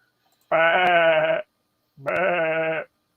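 A sheep gives two long, clear bleats close by, each lasting nearly a second, separated by a short silence with no voices.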